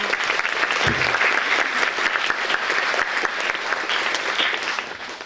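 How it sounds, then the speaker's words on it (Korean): An assembly audience at a school general assembly gives a big round of applause to the principal after a speech, loud sustained clapping with crisp individual claps and a brief low thump near the start. "좋은 말씀 해주신 교장 선생님께 다시 한번 큰 박수 부탁드립니다."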